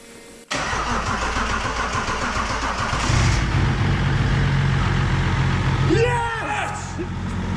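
A BMW-engined Land Rover Defender cranks and fires, its engine catching abruptly and settling into a loud, steady idle that revs slightly, close by, with people talking over it near the end.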